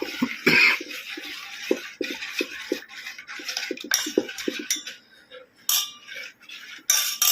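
Spoon clinking and scraping against a bowl while garam masala is stirred into beaten egg mixture, a run of light rhythmic metallic taps with brief pauses, close and fairly clear.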